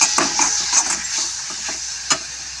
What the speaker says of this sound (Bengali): এটাকে আমি ভালো করে একটু নেড়ে নেব।